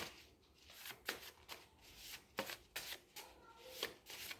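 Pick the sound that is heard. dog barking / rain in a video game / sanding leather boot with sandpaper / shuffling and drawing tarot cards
shuffling and drawing tarot cards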